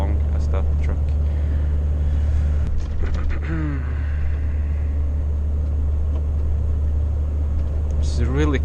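A fully loaded Volvo FH 440 semi-trailer truck hums along with a steady, low engine rumble heard from inside the cab, with someone talking over the drone.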